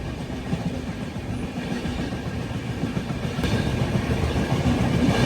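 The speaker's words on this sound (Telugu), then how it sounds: "తెలంగాణ ఎక్స్ప్రెస్ వస్తుంది." A Telangana Express passenger train rolls past close by, a steady loud rumble of wagons with rhythmic wheel clatter that builds slightly toward the end, with no voices.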